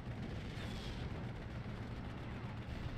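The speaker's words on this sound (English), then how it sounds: "he starts mortaring my Panzer" Mortar fire landing on a Panzer in the WWII strategy game Steel Division: Normandy 44, a dense continuous rumble of booms and blasts with no pause across the whole stretch.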